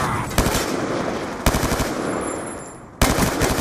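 Automatic gunfire from a gun in an Xbox video game rattles out in three loud, sustained bursts, each starting with a sharp attack and running almost without pause.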